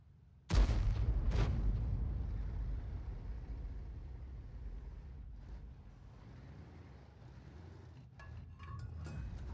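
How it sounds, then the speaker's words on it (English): Artillery shells fired toward an SU-14-2 tank in World of Tanks land as a loud, sudden boom followed by a second blast, then a long rumbling roar fading under clinks and small metallic impacts. "Shells are being fired in his direction"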